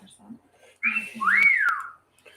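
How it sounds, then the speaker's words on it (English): A person whistles a short rising-and-falling tune, clear and close, lasting about a second, with faint background noise and a brief low voice before it. "whistling again."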